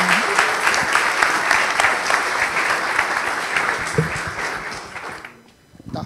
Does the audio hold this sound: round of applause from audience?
yes